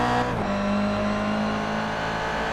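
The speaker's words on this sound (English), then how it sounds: "You can hear him slowly get on the gas there." A Toyota GR86 race car at Circuit Gilles Villeneuve eases onto the throttle, its engine note rising gradually in a steady, loud drone during a race.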